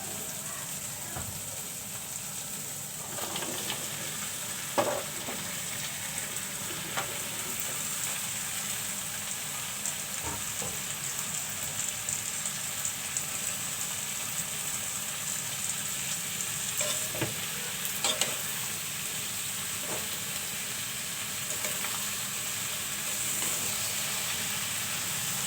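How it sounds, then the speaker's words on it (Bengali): Vegetables sizzle and fry in a pan with dried fish, a steady broad hiss with occasional stirring clinks and scrapes, close and continuous with no voices. "শুটকিটা কষানো হয়ে গেছে, এখন আমি এখানে সবজিগুলো দিয়ে দেব।"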